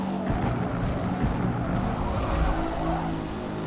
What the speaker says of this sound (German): Aber diesen Auspuffsound habe ich auch bisher noch gar nicht gehört.